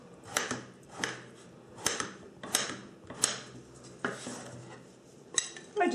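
A knife chops through meat on a cutting board with sharp, irregular thuds about once a second; there are several distinct strikes with short gaps between them, close up, with no talking.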